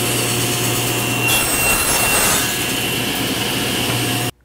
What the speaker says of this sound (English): Let's go ahead and rip it down again to 1/8 by 1/8,